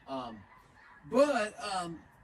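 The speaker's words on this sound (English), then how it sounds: "you can hear the geese overhead, right now." Geese honking overhead above a swamp, two or three distinct nasal honk bursts at moderate distance separated by short gaps, against a quiet background with no talking.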